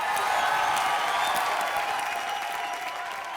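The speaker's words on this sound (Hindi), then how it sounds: "जोरदार तालियां हो जाए इसकी मौत के लिए" A studio audience on a Hindi television comedy show applauds, a steady wash of crowd clapping that fades slightly toward the end, with no talk over it.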